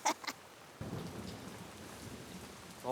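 Steady rain pours down through a thunderstorm, with a broad rumble of thunder breaking in under a second in and rolling on beneath the downpour; brief voice-like tones sit at the very start and end.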